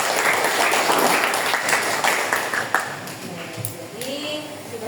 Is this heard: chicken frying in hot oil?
no